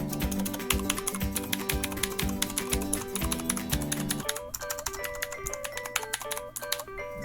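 Rapid clicky keystrokes on an ABKO K640 mechanical keyboard form a dense, continuous typing patter, close and clear, heard alongside a looping electronic melody in the background.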